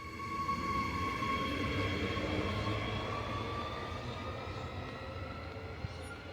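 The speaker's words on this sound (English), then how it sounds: "that's a train arriving at Wulkuraka railway station in Ipswich," Train arriving at Wulkuraka railway station in Ipswich, Australia, a steady rumbling roll with a high tonal whine that slowly falls in pitch as it nears, moderately loud and continuous with no speech.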